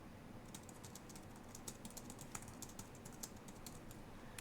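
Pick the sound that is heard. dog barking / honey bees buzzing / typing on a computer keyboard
typing on a computer keyboard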